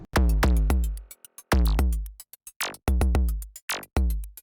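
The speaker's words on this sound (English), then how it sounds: "When they're completely dry, it sounds like this." Completely dry electronic drums from a Pure Data IDM patch hit in a tight, loud, rhythmic pattern of punchy kicks and clicky hits with two sharp pitch-sweeping zaps, every strike cut off cleanly with no tail.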